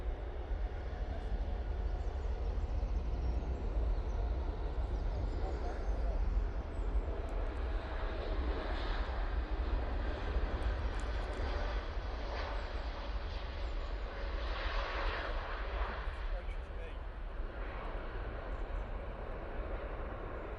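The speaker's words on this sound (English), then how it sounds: "Dreamliner now on the roll" A Boeing 787 Dreamliner on its takeoff roll at Manchester Airport, a steady broad jet roar held at a distance for the whole stretch, with voices talking over it.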